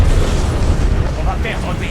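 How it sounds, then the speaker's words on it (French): Napalm strike explosion in a Call of Duty Black Ops 7 match, a continuous loud rumbling roar with crackling bursts filling the two seconds. "Frappe au napalm imminente dans votre zone."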